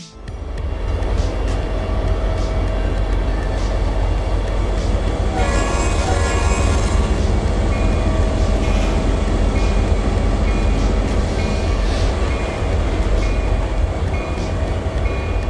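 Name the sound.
Norfolk Southern train running in the video game Trainz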